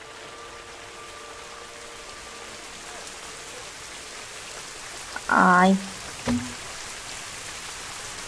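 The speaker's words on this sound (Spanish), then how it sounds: "Ahora está lloviendo" Steady in-game rain hiss from the Planet Zoo management game runs throughout, with a brief voice exclamation and a couple of short interface blips partway through.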